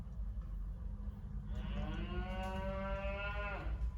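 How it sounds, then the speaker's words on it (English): Cattle in a livestock trailer give one long, loud moo lasting about two seconds, set against a steady low rumble. "That's a trailer full of cows"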